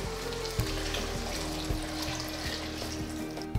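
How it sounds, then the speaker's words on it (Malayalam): Four cups of chicken stock poured into a pan for hashwe, a Middle Eastern rice dish, giving a continuous watery splashing rush with light sizzle, close and steady throughout with a few small knocks. "ഇതിലേക്ക് ഇനി നമുക്ക് 4 കപ്പ് ചിക്കൻ സ്റ്റോക്ക് ഒന്ന് ഒഴിച്ചു കൊടുക്കാം."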